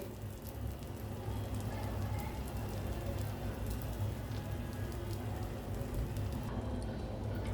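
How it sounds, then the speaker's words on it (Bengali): Eggs fry in butter in a pan, giving a steady, crackling sizzle like light rain that keeps an even level throughout without breaks. "আমি এখানে বাটার দিয়ে ডিম ভেজে নিচ্ছি।"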